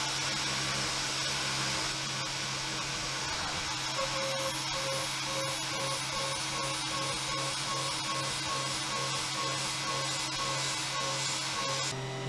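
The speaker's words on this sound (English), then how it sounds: "we're removing as much material as we can with this large cutter" A CNC milling machine cutting away stock with a large cutter while making knife blades, a constant loud mechanical whine with steady tonal hums and faint ticking chatter throughout, no voices.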